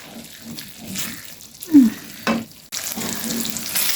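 Minced meat (keema) with hand-chopped ginger frying in a pan, a soft steady sizzle with a few louder clinks and scrapes of stirring near the middle, close and fairly quiet.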